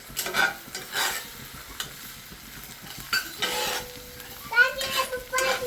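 Eggs for bhurji crackle and sizzle in a pan on a gas stove while a spatula scrapes and stirs now and then, with voices and someone talking nearby.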